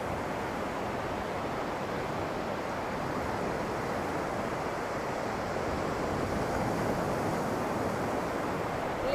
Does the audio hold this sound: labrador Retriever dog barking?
no